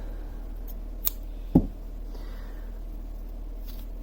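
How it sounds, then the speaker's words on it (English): Scissors snip the end of crochet yarn with a single short, crisp cut, preceded by a faint tick in an otherwise quiet room. "cut the end of the yarn"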